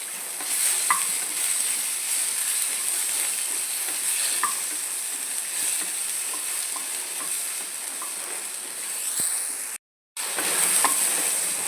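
Kashmiri chili powder sizzling in a hot pan of frying ingredients, a constant close crackling hiss with occasional faint stirring ticks and a brief cutout near the end, with no talking.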